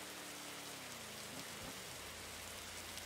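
Steady rain hisses across a video game server, a broad, constant wash of drops with a faint low rumble beneath, loud and continuous with no talking.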